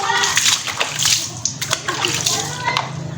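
Water splashes and sloshes as it is poured over a Suzuki throttle body filter to rinse it, close and fairly loud in bursts, with people talking over the pouring.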